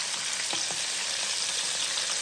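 Mushrooms frying in a Power XL air fryer, a continuous bright sizzle and hiss at even loudness throughout, with a couple of faint soft clinks.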